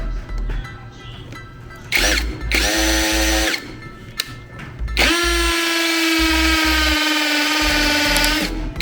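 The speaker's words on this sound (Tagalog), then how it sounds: "So itong mini drill natin guys, gagamitin natin siya ng bala na pang semento. Subukan natin siya sa impact mode." A Keelat cordless mini drill in hammer impact mode bores into cement with a masonry bit, loud whining and rattling bursts that start, stop and restart, ending in one long sustained drilling run close by.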